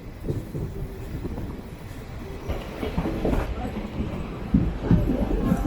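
Express train 20909 Kochuveli–Porbandar pulling into Angadippuram station, a steady rumble of wheels and rail with some rhythmic clatter, moderately loud and continuous, with faint background voices.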